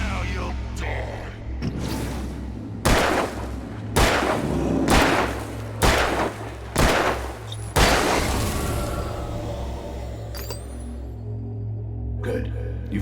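Gunfire erupts in the video game Alan Wake: about six loud, evenly spaced shots boom out one after another, each with a sharp crack and a short rumbling tail, and the last fades into a low, quiet ambience.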